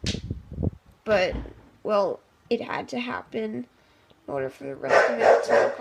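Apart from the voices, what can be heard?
dog barking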